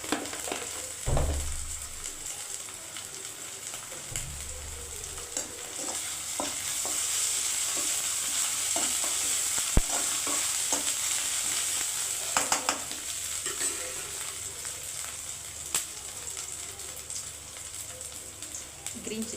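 Onions fry with ginger garlic paste in a pan, a steady close sizzle with occasional scraping stirs throughout, joined by brief low thumps near the start.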